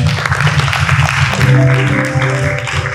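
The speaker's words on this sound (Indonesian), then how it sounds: "Tepuk tangan dong teman-teman" Applause from a student church congregation of about 110 at a Sunday service, a short steady burst of clapping with low hum and tones underneath.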